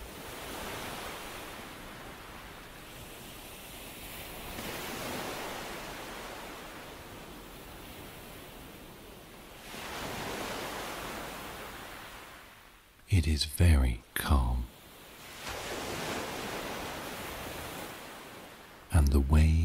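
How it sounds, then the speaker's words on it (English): Gentle ocean waves wash softly onto a sandy shore in a calm seaside setting, a steady low surf rising and falling in slow swells, with a voice speaking quietly over it near the end. "the waves break like small sighs against the sand"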